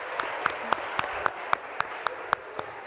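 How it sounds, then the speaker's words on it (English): Audience applause at a women-in-industry summit session: steady crowd clapping with a regular, nearby sharp clap rising above it about every quarter second. "Give yourselves a round of applause."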